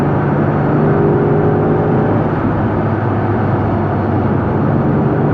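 A restored classic Mini Sportspack out on the road, heard from inside with a steady, loud engine drone and road roar. The note shifts slightly as it drives along, with no talking.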